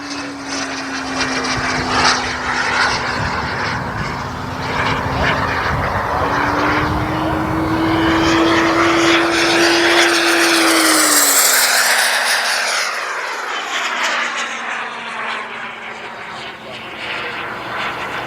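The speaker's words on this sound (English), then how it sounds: "Wow, cool plane." A Boomerang Lancer RC jet plane flies past, its engine a loud steady whine that climbs in pitch, peaks as it passes close overhead, then drops away, filling the whole stretch.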